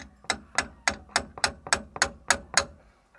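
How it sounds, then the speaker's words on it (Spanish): Nine sharp metallic hammer blows strike a part on the axle of a Nissan D22 pickup, evenly spaced at a steady rhythm, each ringing briefly before the next. "nos vamos a ayudar un poco con un martillo"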